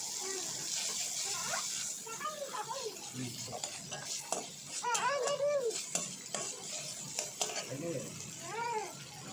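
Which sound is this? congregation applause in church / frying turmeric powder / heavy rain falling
frying turmeric powder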